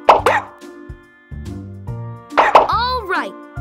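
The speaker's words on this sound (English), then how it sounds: "Now tap all the bubbles to pop them." Cartoon bubbles pop in a PAW Patrol video game during a pup's bath. Short plopping pops land over cheerful background music, with a few louder pops near the start and the end.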